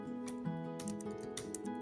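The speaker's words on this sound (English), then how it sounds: "what's wrong with my typing today?" Faint computer keyboard typing, a few soft clustered keystrokes at close range over a steady low electronic hum, with no voice.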